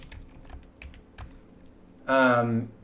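Someone types on a computer keyboard in a close, steady patter of light key clicks, and a voice speaks briefly near the end.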